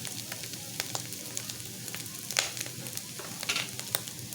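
Bopis frying in a pan gets stirred, with a continuous close sizzle broken by irregular scraping and clinking strokes of the utensil and no voices.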